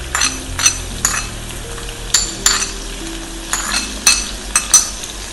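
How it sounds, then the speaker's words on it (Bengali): Chopped onions fry in a pan with cumin, giving a steady close sizzle broken by occasional scraping stirs and light clinks of a spoon against metal. "পেঁয়াজটা একটু ভাজা হবে"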